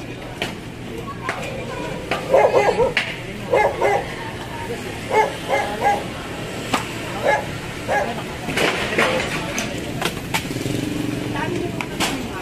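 A dog barking in a series of short yaps and whimpers, fairly close, mixed in with people talking and a motorcycle engine in the background.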